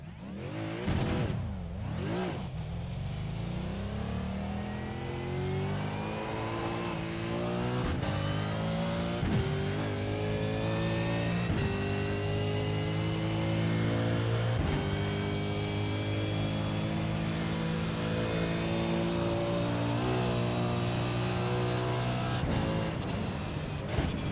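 Race car engine in the iRacing sim revving loud and continuous, its pitch climbing and falling through gear changes with a steady harmonic drone and brief dips between shifts, no talk over it.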